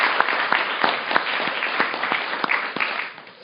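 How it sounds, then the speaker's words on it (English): At an enterprise collaboration conference panel, the audience gives a steady round of applause that carries evenly through the hall before tapering off near the end. "Let's give a warm round of applause for all the panelists."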